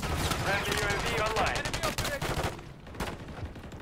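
A sniper rifle in MWIII beta gameplay, sharp gunshot bursts under dense shooting noise, loud for the first few seconds, then fading to quieter scattered sounds.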